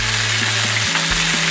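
A chicken cutlet fries in a pan that had been on high heat, producing a continuous close sizzle with a low hum underneath and no voices.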